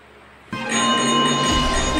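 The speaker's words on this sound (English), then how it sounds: "Each group will be given one bell application and you are going to shake it in order for it to produce sound like this." A phone bell application is shaken in a classroom, setting off a sudden loud, sustained ringing bell tone that starts after a brief quiet moment and continues steadily.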